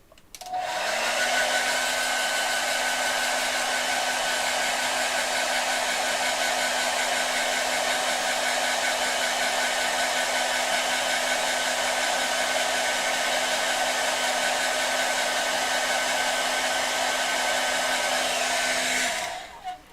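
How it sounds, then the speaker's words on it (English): A hairdryer blasts air over a freshly painted Seraphon miniature, a loud, steady whooshing roar with a constant whine that runs unbroken for about twenty seconds before cutting off. "So just give this a quick blast with my hairdryer."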